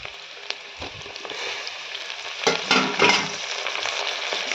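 Onions and tomatoes for veg biryani sizzle in a pan, a soft, steady frying hiss broken by scraping stirs that grow louder near the end, close and quiet with no talking.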